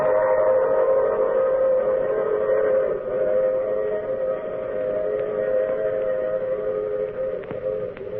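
A steady train rumble with a sustained whistle-like tone runs continuously and fairly loud throughout, without any talking.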